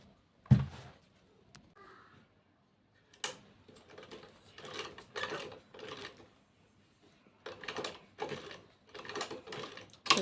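A sewing machine stitches two bag panels together in several short close bursts of rapid mechanical whirring, separated by quiet pauses and a few clicks.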